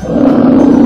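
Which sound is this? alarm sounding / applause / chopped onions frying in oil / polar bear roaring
polar bear roaring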